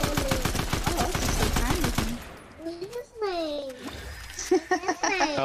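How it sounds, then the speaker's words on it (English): Reaper Sniper Rifle gunfire in a Fortnite match: a rapid burst of sharp, loud shots over the first two seconds, followed by voices talking. "Oh, it's a Reaper Sniper Rifle."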